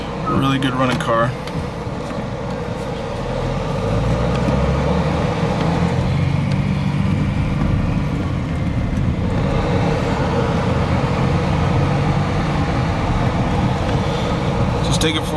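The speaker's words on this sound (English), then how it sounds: "So it's a really good running car." A 1978 Euro-model Mercedes-Benz 280SE with a 2.8-litre DOHC M110 inline-six runs while driving, a steady low engine rumble with the air conditioning blowing and a voice briefly heard inside the cabin.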